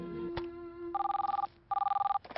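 An office telephone rings in two long electronic bursts with a fast warbling pulse and a short pause between them, loud and close, with no talk.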